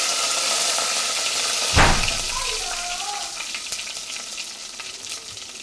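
Tempering spices hit hot oil for tamarind jaggery rasam with a sudden close sizzle that settles into steady frying crackle, and a faint stirring scrape can be heard under it.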